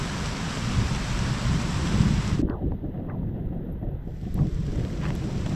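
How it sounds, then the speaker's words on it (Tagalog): Heavy rain pouring down in a forest, a dense steady roar of drops with gusty wind buffeting the microphone, continuous and loud with no break. "Lakas ang ulan."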